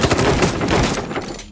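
Rapid, chaotic gunfire in the tactical shooter Ground Branch during close-quarters multiplayer, with a shotgun among the loud, overlapping shots filling a short burst before tapering off.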